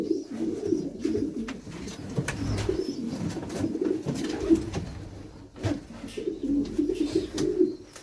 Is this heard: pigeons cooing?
yes